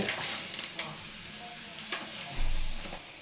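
Appalam papads frying in hot oil, a soft continuous sizzling hiss with scattered light crackles and a brief low rumble near the end, no voices.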